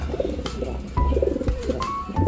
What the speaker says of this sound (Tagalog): At ito po ang aking bago sa loft, Bocara trumpeters.